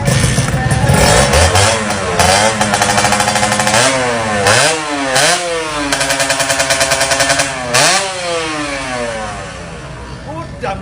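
A Kawasaki Ninja RR motorcycle engine cranks on the double starter and fires up, then revs repeatedly in loud rising and falling bursts with a crackling two-stroke rasp. Speech is heard over it.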